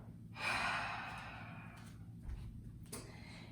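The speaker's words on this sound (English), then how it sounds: "Last time, breathe in and breathe out." A single deep breath during a beginners' yoga session: a long, audible inhale swelling up then tapering into a slow exhale, close and soft, with a faint second breath near the end and no talking.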